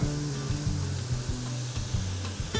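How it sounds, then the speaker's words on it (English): Chopped fresh purple onion sizzles in a pan during Pakistani home cooking in Lahore, a close, steady fry broken by regular scraping stirs of a spoon against the pan. "first she cut a fresh onion, purple one, and she's making it in the pan"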